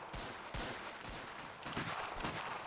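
Cannons in an Anglo-Zulu war video game mod fire repeatedly, a steady run of heavy, broadband booms roughly every half second over continuous battle noise, with no talking.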